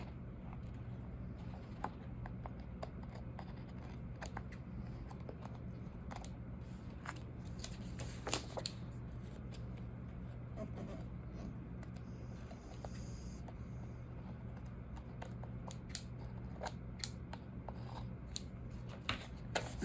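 Paper being trimmed for a craft project gives a scatter of soft snips, rustles and small taps over a low steady room hum, quiet and close with no talking.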